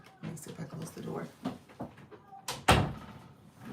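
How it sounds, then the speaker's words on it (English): A door closing inside a home, a single loud thud near the end that follows a stretch of talking and rustling, with voices heard before it. "Let me see if I close the door."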